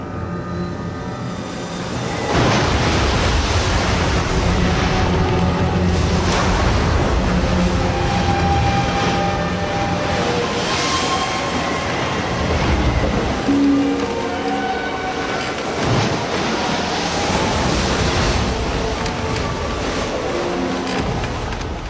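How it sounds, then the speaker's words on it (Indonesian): Rough water churned up by strong wind, a steady loud wash of broadband surf-like noise with rolling surges, continuous throughout and with no voices. "air mulai bergelora karena angin kencang"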